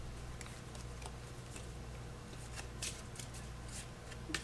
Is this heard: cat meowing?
no